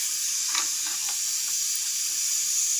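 Cooked mutton biryani rice being gently stirred in a pot, soft scraping and stirring scuffs over a steady steamy hiss, with no talk.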